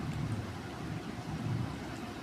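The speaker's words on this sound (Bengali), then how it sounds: "বাইরে এখন বৃষ্টি পড়ছে" Rain falling outside on a hot day, a soft and continuous wash of noise with a low rumble beneath it, heard from indoors at a quiet, even level with no voices.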